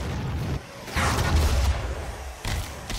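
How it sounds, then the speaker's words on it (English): Explosions in the Doom video game: a deep boom bursts out about a second in and rumbles on, then a second sharp blast hits near the end, loud over the game's background noise. "That's a pretty big explosion radius."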